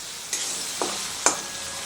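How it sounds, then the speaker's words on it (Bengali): Tomatoes, onion and garlic frying in a pan for paneer bhurji, a steady close sizzle broken by three quick spoon scrapes. "আর পেঁয়াজ রসুনটাও কিন্তু বেশ ভালোভাবে ভাজা হয়ে গেছে"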